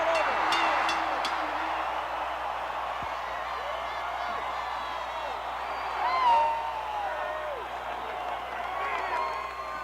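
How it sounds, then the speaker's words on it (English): Capacity crowd cheers and applauds in a wrestling arena after a title defense, a dense roar of voices and clapping that swells midway, under a commentator talking. "Capacity crowd on its feet as Hulk Hogan successfully defending his title this week"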